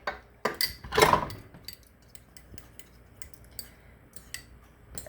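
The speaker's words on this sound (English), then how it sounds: "I'm just going to break up my egg and just mix it together a little bit here" A fork beating one egg in a bowl for a sweet potato casserole, a few clinking taps and scrapes, one louder burst early, then light scattered ticks.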